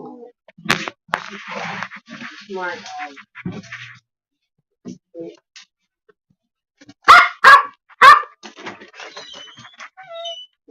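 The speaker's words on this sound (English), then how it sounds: "Boy, they're noisy, ain't they?" Several dogs bark outside in loud, sharp bursts, some in quick groups of two or three, with quieter yelps and gaps between them; someone speaks briefly early on.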